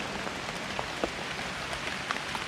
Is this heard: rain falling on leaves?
yes